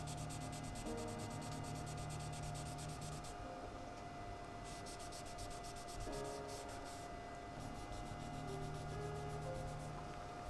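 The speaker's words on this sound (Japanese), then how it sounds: "深い傷が入りにくいバフレックス3000でもこのように簡単に表面が削れるので、力加減は軽めで行います。" Fine sandpaper, Buflex 3000, rubs lightly over the painted plastic body of a Tamiya Alfa Romeo Giulia Sprint GTA model car, a soft, continuous, close scratching hiss with brief pauses between strokes.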